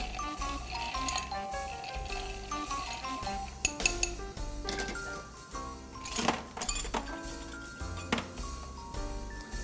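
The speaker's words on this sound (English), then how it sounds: "I just stir this a little bit to make the ingredients cold." Busy metallic clinking and tinkling of a spoon stirring cocktail ingredients against glass and ice, repeated rhythmic chinks close by with some louder clatters.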